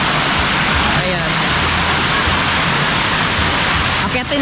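Heriberta Falls, a waterfall in Mindanao, gives off a loud, unbroken rushing roar of falling water that fills the whole stretch.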